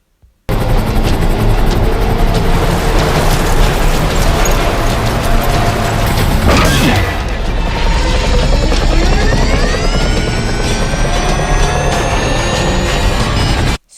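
A helicopter-like aircraft flying in GTA 5 gives a loud, steady rotor drone and engine roar for about thirteen seconds, with a rising, sweeping whine partway through.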